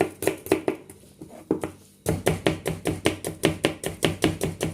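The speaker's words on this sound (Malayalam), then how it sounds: "നൈസായിട്ട് അരിഞ്ഞെടുക്കുക" A kitchen knife chops ingredients finely on a board for a chicken curry, sounding as a steady, fast run of close, crisp taps with a brief slower stretch before the quick rhythm picks up again.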